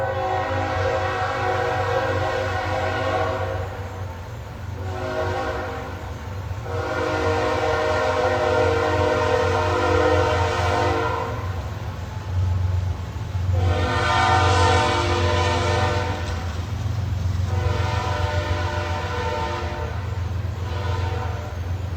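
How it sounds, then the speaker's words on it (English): A loud train rumbles close by while its horn sounds in several long, sustained blasts separated by short pauses. "I have to give place to the train for just a moment."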